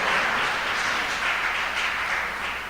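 A church congregation applauding, a dense, steady wash of many hands clapping together at an even level throughout, filling the room with no voices standing out.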